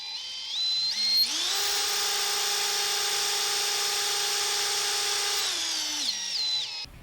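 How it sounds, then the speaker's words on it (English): A RIDGID subcompact cordless drill boring with a spade bit spins up and runs steadily at high speed for several seconds, a loud close whine, then winds down. "let's move it over to the drill here in a spade bit"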